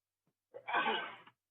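A single short, sharp sneeze bursts out close by in an otherwise quiet room.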